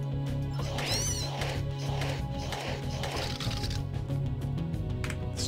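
A cat meows in the sewers of the video game Deus Ex: Revision, a few rising and falling cries layered over a steady droning game soundtrack, fairly close and clear.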